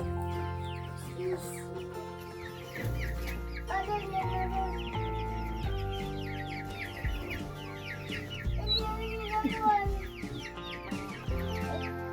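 Chickens clucking inside a chicken coop, a steady run of close, busy clucks and chatter throughout with low rumbling background noise.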